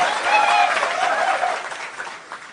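Crowd at a political rally bursting into applause, a dense wash of clapping that swells early and then gradually thins out, with a voice sounding over it.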